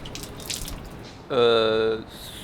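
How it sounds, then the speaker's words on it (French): Water runs steadily from a hand-washing basin at a Japanese temple, a soft continuous splash heard up close, briefly overlaid by a short tonal, voice-like sound. "il y a un temple avec un espace pour se laver les mains"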